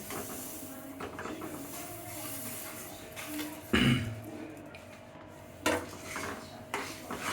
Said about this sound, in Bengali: ক্যারামেল হয়ে গেলে তিলগুলা, ভাজা তিলগুলা দিয়ে দিতে হবে।